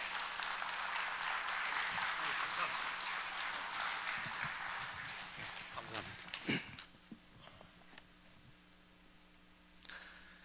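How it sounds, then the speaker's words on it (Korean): A seminar audience gathered for a conference on family worship applauds to welcome a professor to the stage, a steady mass of clapping that dies down after several seconds, leaving a few isolated noises in a quiet room. "박수로 환영해 주시면 감사하겠습니다."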